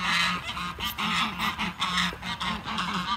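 Geese on a small farm honking repeatedly in quick nasal bursts, several birds calling close by in an overlapping, steady rhythm.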